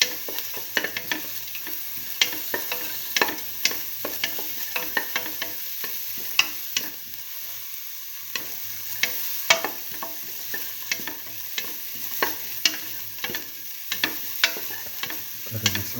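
Onions sautéing with fennel seeds and salt in a pan for a mung bean tomato stew: a steady soft sizzle with frequent spatula scrapes and stirring clicks, close and alone.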